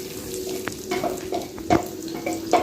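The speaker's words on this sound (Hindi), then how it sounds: "छोटे छोटे चॉप किए हुए प्याज डाल देते हैं।" Chopped onions sizzle in hot oil, a crackling fry broken by a few sharp clicks and stirring scrapes, with no voices.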